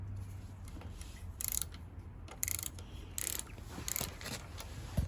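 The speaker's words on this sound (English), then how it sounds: "We're gonna take our torque wrench." A torque wrench loosens a bolt on a moped, a series of about five quiet, close ratchet clicks spaced roughly a second apart over a low hum.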